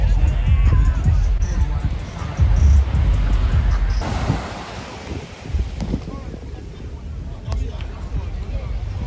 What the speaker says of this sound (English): the tropical torrential downpour is underway